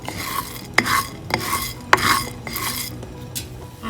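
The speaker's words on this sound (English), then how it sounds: "Take a non-stick pan, saute coriander seeds on medium heat for 3 minutes" Coriander seeds sauté in a non-stick pan over medium heat, with a rhythmic, repeated scrape of a utensil stirring them and a soft crackle between strokes.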